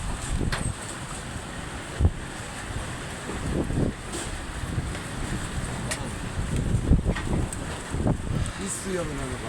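Strong wind gusts and buffets the microphone as the sky darkens, a constant rough low rumble with sharper surges every few seconds, voices faint beneath it.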